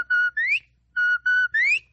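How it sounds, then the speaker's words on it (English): A police whistle signal in a radio drama, five sharp, clear blasts in two groups: two tones followed by three, the last of each group rising in pitch, with no voices. "This whistle means robbery at the First National Bank."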